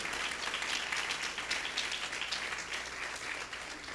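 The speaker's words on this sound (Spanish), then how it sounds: "¿Por qué no le das un aplauso al Rey de gloria, al Rey de victoria, al Rey de reyes, al poderoso?" Congregation in a church service applauding, a steady wash of many hands clapping at moderate distance that holds evenly throughout without letting up.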